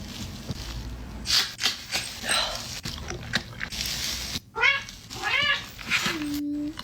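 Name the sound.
cat meowing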